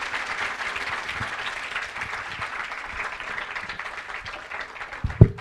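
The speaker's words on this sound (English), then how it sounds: "Sir के लिए एक बार clapping कर दें हम." Audience claps steadily to welcome a deputy director of a science branch onto the stage, a sustained, moderately loud wash of applause ending with a sharp thump near the close.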